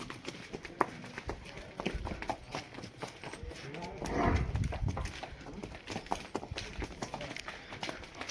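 Horse hooves clip-clopping on a ground surface during a horse ride, with an uneven run of soft, fairly close hoof falls and muffled voices in the background.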